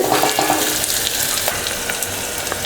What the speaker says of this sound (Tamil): வெங்காயம் 2 நிமிஷம் வதக்கி விட்டேன்